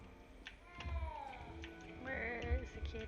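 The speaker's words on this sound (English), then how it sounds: "Where's the kitty cat?" A cat in the video game Hogwarts Legacy meows twice in short, rising-falling calls close by, with faint game ambience and soft background sounds.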